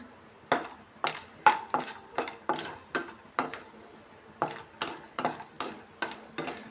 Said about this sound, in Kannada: ಗೋಡಂಬಿನ ಸೇರಿಸಿ ಫ್ರೈ ಮಾಡ್ಕೊಳ್ಳೋಣ